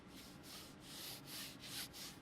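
Book spines rubbed together at close range, a soft, continuous papery scraping that swells and eases in several short strokes, faint and intimate with no talking.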